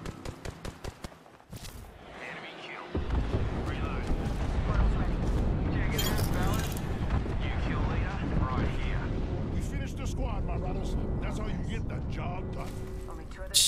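Airstrike explosions in the video game Apex Legends: after a quieter opening, a loud, sustained barrage of booming blasts and rumbling impacts rolls on for about ten seconds, with voices faintly heard over it.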